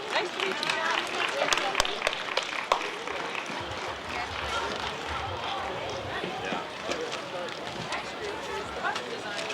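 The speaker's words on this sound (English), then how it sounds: "So let's have a nice round of applause." An audience at a Canadian Days community festival applauds after a parade announcement, a dense, steady wash of many hands clapping with crowd murmur throughout.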